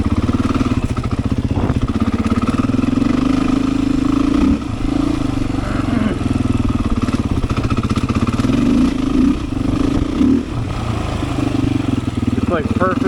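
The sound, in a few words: Beta 500 dirt bike engine at wide open throttle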